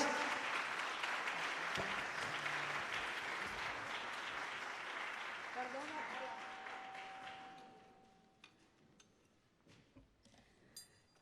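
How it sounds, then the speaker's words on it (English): Applause at an energy and climate partnership opening ceremony in Jamaica greets the Jamaica Military Band, full and sustained for about seven seconds, then fading to a few scattered claps and faint clinks of glassware. "may I have another round of applause for the Jamaica Military Band and Charmaine Lemonius"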